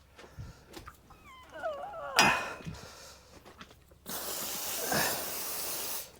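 A hissing spray of water rinsing a deer carcass starts partway through and runs steadily to the end, preceded by scattered clinks, rustles and a brief squeaky sound.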